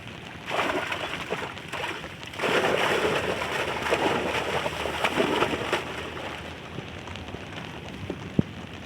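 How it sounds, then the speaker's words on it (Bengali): Rain falls steadily in a broad hiss over a village house construction site, surging louder in stretches and then easing, with a few sharp drips and taps near the end. "তার পরপরই বৃষ্টি শুরু হয়েছে তো এখনও বৃষ্টি হচ্ছে"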